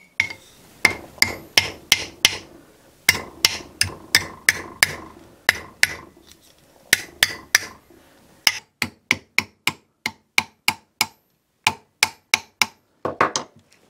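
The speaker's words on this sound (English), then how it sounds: "Now I can take my planishing hammer and tap it over and make a nice sharp" A planishing hammer tapping metal into a sharp bend in foldformed jewelry work, with crisp sharp ringing strikes coming in quick bursts and then a steadier evenly spaced run, close and loud with no talking.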